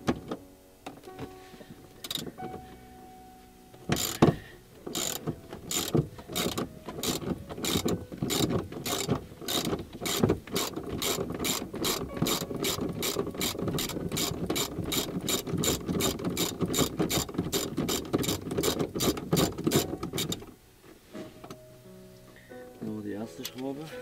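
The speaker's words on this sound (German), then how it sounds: "jetzt ratsche einfach die Schraube" Rapid, even ratchet clicks from a wrench tightening a bolt on a Mazda 626 GT sports seat, running steadily for about fifteen seconds, close and fairly loud over a garage background with a few scattered knocks before and after.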